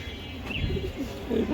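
A racing pigeon raced with a BRPCB club coos nearby in a low, soft rolling burble, with a faint background hum and a brief higher note partway through.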